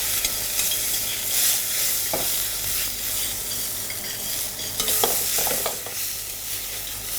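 Bird's eye chili and Timut pepper sautéing with grapefruit trimmings in a pan: a continuous close sizzle with scattered scrapes and stirring clatter from a utensil, no talking.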